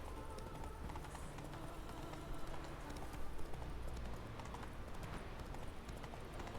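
Horse hooves in The Witcher 3 video game clatter in a quick, continuous galloping rhythm, close and fairly loud, with no other sounds standing out.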